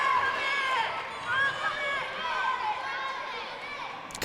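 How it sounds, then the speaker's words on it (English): Crowd noise at a UNX Championship ninja obstacle course event, a steady roar of voices and shouting fans underneath an announcer's talk throughout. "Gosh, you can hear the crowd."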